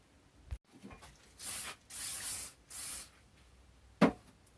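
WD-40 sprayed onto a heat-treated camping and bushcraft knife blade in three close, loud hissing bursts of about half a second each, followed by a single sharp knock.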